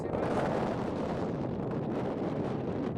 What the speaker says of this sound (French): Oui, le vent est là.